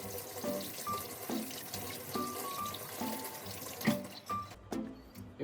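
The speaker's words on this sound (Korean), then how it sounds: "요리하기 전에 손을 깨끗이 씻어주시고요." Hands being washed under a running kitchen tap before cooking, a steady rushing water stream with small splashes and clinks from the sink, close and continuous with no talking.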